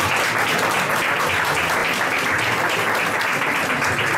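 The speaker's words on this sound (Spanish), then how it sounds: "Un aplauso a ella." Audience applauds the presenter on a Spanish radio-style programme, a steady, loud, dense wash of clapping that holds evenly throughout.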